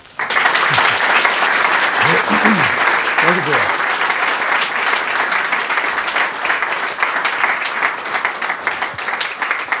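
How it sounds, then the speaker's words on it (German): Loud sustained applause from a lecture audience filling the whole clip, with a few brief spoken words in German heard over the clapping. "Begrüßen Sie mit großem Applaus"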